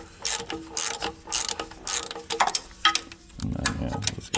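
A ratchet tightens the starter bolts on a 1997 Chevrolet Silverado 1500, giving close, rapid clicking bursts in uneven strokes with short gaps, then a low rumbling clunk near the end, and no talking.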